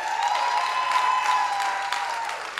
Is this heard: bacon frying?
no